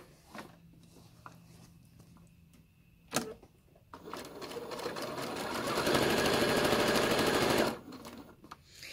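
A sewing machine quilting fabric starts up and runs steadily, its rapid stitching hum growing louder before stopping abruptly; a few clicks and taps come before it.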